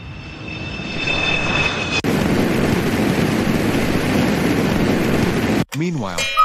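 An airplane in flight produces a loud, steady engine roar and rush of air that fills the scene, broken briefly near the end by a voice talking.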